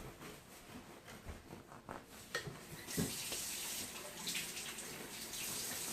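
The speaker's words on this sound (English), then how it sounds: "You go wash your hands." Water runs from a sink tap as a child washes his hands before a slice of fresh homemade loaf bread, a steady close splash that swells louder partway through and continues without talk.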